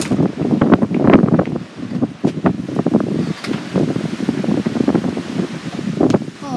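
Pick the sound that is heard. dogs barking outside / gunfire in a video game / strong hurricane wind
strong hurricane wind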